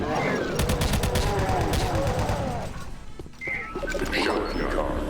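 Chain gun in Doom 2 firing a rapid, steady burst of loud shots for about two and a half seconds, then a brief pause before more game noise and talking.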